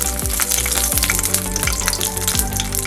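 Dried red chillies frying in hot olive oil, a loud continuous crackling sizzle with a few brief stirring scrapes, close and steady throughout.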